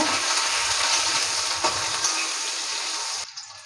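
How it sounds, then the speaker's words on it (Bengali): Steady, close sizzling of potatoes with turmeric frying in hot oil crackles throughout, with a few small stirring clicks, then cuts off abruptly near the end. "হলুদ দিয়ে আলুটা ভালো করে ফ্রাই করে নেব"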